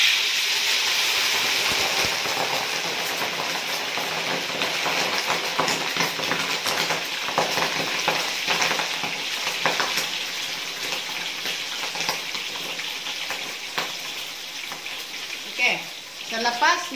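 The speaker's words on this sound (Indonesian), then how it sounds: "sekarang sesi untuk menggoreng ini kaki ayam kita yang kita sudah perap dengan kicap" Chicken feet marinated in soy sauce crackle and sizzle steadily in hot oil, a dense continuous frying hiss throughout with a few louder spits near the end.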